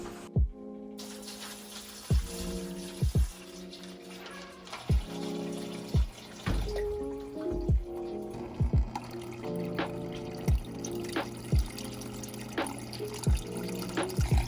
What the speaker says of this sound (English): we're pretty well ready at this point to refill the enclosure up with some nice